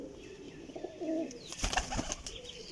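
Champion pigeons in a loft in Sarai Alamgir, Jhelum, coo in soft, throaty bursts close by, with brief wing flutters and rustling mixed in and no talk.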